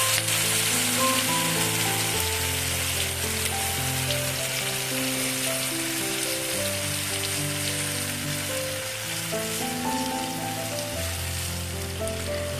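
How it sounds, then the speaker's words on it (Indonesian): Blended spice paste sautéing in a pan for freshwater lobster in oyster sauce, a steady close sizzle and crackle of frying that continues throughout under a faint melodic background. "Lalu ini akan kita tumis-tumis sebentar."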